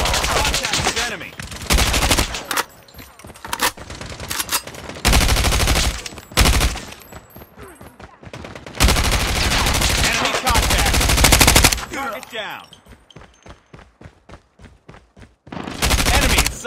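Repeated bursts of automatic gunfire in the mobile shooter Call of Duty Mobile, loud and near, broken by pauses and followed by a run of sharp single shots, with game radio callouts mixed in.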